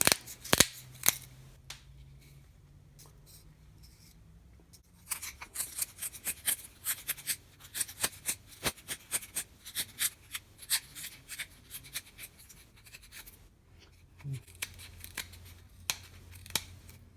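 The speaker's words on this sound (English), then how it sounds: "I'm just gonna cut the tip off using these curved body scissors." Curved body scissors snip carbon fiber repeatedly up close, a quick run of sharp cuts followed by steadier, rhythmic snipping and a few scattered crisp clicks.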